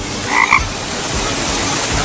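A frog croaks close by at a hotel's outdoor garden golf area in Hua Hin, giving a couple of short, distinct croaks over a constant background hiss.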